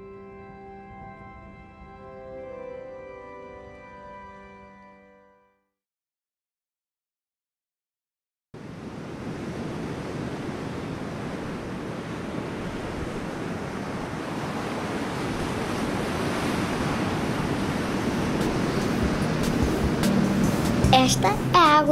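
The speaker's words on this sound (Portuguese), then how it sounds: "Esta é a água do mar em Portugal. É fria e agitada" Cold, rough sea waves off the coast of Portugal make a broad, continuous roar with wind buffeting the microphone. The surf grows slightly louder over time after a short musical intro and a brief silence.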